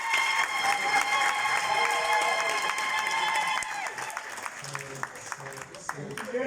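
Conference audience applauding in a university lecture hall, a steady patter of clapping that thins slightly toward the end while voices speak over it.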